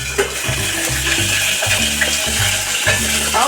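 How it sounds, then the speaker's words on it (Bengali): Pabda fish frying in mustard oil in a wok, a steady loud sizzle with bursts of spitting and crackling, alongside rhythmic low clattering throughout. "মাছটা ভাজা হোক কড়াইতে"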